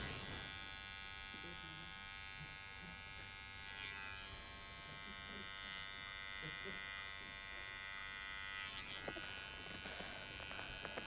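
Electric hair clippers shaving a client's neck during a barber class give a steady close buzzing hum that runs unbroken the whole time, with faint murmuring voices in the background.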